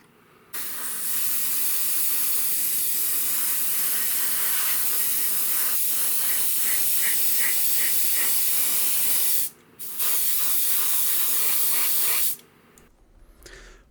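Matt coat sprayed from an aerosol can onto an Airfix starter-set scale model, a loud steady hiss running for about nine seconds, a brief pause, then a shorter burst.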